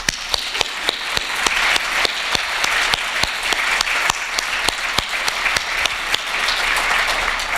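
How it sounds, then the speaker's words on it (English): A round of applause from the audience at a Big Data Week community meetup, with steady, fairly loud clapping and sharp individual claps cutting through the wash throughout. "So can we have a big round of applause,"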